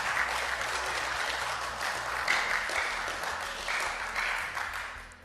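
Sustained applause from members at a parliamentary committee session of the Indonesian House of Representatives, steady clapping from a room full of people with a low background hum, fairly loud throughout.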